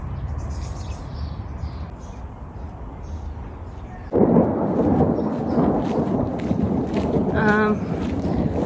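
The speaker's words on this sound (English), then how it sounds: "Thunderstorm." A low, distant rumble of thunder and steady wind noise at the edge of Kaluga, Russia, which grows louder and rougher partway through, with a faint voice near the end.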